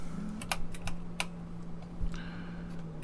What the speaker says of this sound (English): let's keep typing on here and see what else we get